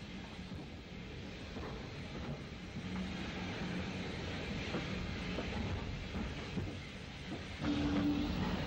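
A 1960s Irish train, steam or diesel, running on rails into Belfast's Great Victoria Street station past semaphore signals, a steady rumbling roll with faint rhythmic wheel clicks throughout, rising slightly at the end.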